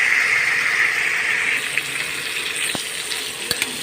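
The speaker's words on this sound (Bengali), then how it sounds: "পটলটাকে ভালো করে ভেজে নেব একদম।" Pointed gourd (potol) sizzling as it fries in a pan, a steady bright crackle that eases a little partway through, with a few sharp clicks near the end and no talking.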